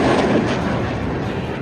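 Rocket fire launched from Gaza toward southern Israel, heard as a continuous loud, rumbling roar of launches and blasts with no voices.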